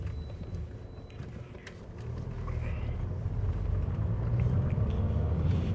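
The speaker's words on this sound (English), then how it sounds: "See when we're in top gear and giving it the acceleration, it's behaving itself." A 2008 Skoda Octavia 1.9 TDi accelerates in top gear, a low engine and road rumble building steadily and staying fairly quiet inside the cabin, with a faint rise in tone as speed picks up.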